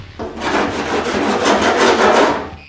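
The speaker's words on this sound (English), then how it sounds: "I'm going to go ahead and cheese grate it" A cheese grater file rasps across body filler on the firewall of a 1975 Pontiac, a close, loud, continuous coarse scraping in steady strokes with no talk.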